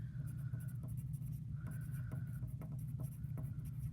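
Stylus tapping and scratching across an iPad screen while drawing muscle diagrams, a quiet, close patter of short strokes and taps over a low steady hum.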